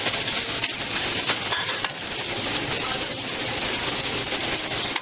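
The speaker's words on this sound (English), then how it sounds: "get some good sizzle going here" Steady, loud sizzling of food frying in a pan, a continuous crackling hiss with occasional stirring scrapes, close by and with no voices.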